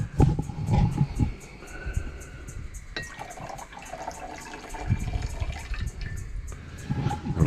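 Running water rinses natural gold nuggets during refining, a steady splashing wash with a few brief surges and dips, close by and alone.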